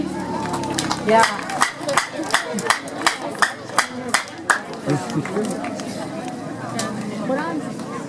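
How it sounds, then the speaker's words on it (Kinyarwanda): A crowd breaks into rhythmic clapping, around ten sharp claps in a steady beat, with chatter and voices continuing underneath and after. "Mubahe amashyi menshi"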